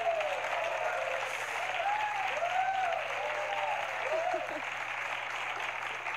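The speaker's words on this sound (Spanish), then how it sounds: "¡Un fuerte aplauso para ti!" A TV studio audience applauds continuously in a steady wash of clapping, while a voice talks intermittently over it.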